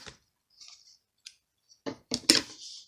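Scissors snip a paper planner sheet in a few short, close crisp cuts separated by quiet gaps, the last ones slightly louder and sliding.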